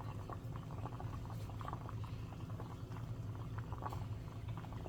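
Water simmers quietly beneath a steaming setup for a bottle gourd leaf dish over low heat, producing a soft, continuous bubbling hiss with faint patter, steady and fairly distant.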